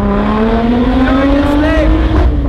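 A Lotus Exige Sport 380 engine revs loud and close, its pitch climbing steadily under hard acceleration, with a voice speaking briefly over the engine.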